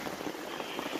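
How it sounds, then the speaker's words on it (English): Heavy rain drums steadily on a tent outdoors at a campsite in April, a dense continuous patter filling the whole second with no voices. "As you can probably hear, it's absolutely pissing down with rain."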